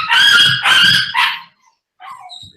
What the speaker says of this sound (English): The cat and the dog are getting to know each other still, I guess.